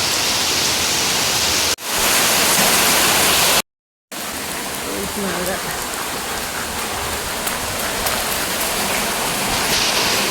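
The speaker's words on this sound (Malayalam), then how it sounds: "പെരും മഴ, 2 ദിവസമായിട്ട് നിൽക്കാത്ത മഴയാണ്" Heavy rain pours down in a dense, constant roar, loud and close, with one brief dropout near the start.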